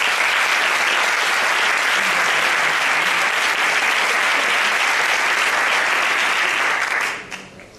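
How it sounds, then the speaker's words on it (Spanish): Sustained audience applause at the final of a flamenco singing contest in Leganés, a dense, loud wash of many hands that holds steady for about seven seconds, then drops away quickly. "Les pido un aplauso para ellos."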